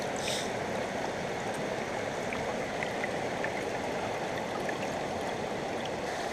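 Water rushing steadily through a gold sluice box, a constant close gurgling wash with no voices and no breaks.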